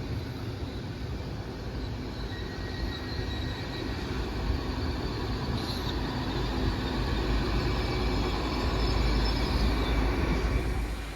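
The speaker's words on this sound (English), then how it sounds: "there goes the 1501 Merseyrail service to Liverpool Central" A Merseyrail electric train pulls out of Chester toward Liverpool Central, a steady rumbling roll of wheels and motors that swells gently, heard from the platform with faint insects in the background and no talk.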